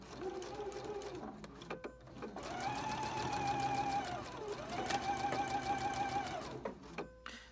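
A domestic sewing machine runs in steady bursts while stitching a quilt block for a log cabin courthouse steps pattern, its rapid whirring motor and needle clatter close and loud, pausing briefly between seams.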